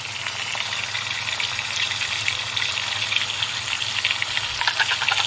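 Chicken frying in a pan with cumin and black pepper gives an even, bright sizzle that holds steady at close range, with faint watery crackle and no voices.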